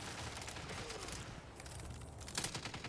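Rifle fire from a Destiny 2 PvP match, a quiet and steady crackle of gunfire with a sharper report near the end, and no voices.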